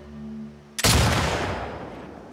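A single loud gunshot cracks after a low hum in The Last of Us Part 2, then rumbles out in a long decaying echo.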